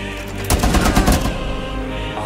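Light machine gun fire in Rainbow Six Siege, a loud sustained burst of rapid automatic shots packed close together, then trailing into a dense rumbling echo.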